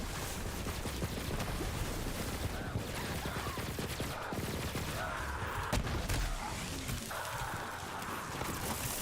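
Rapid explosive-round gunfire in the Borderlands 3 shooter, a dense, continuous barrage of shots and blasts running throughout, loud and busy with overlapping game effects.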